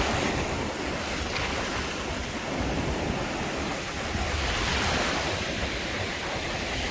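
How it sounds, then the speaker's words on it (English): Atlantic Ocean surf breaking steadily on the beach at Palm Beach, Florida, a continuous broad wash of waves with wind noise, loud and close, no voices. "Ocean in motion. Beautiful day in Palm Beach."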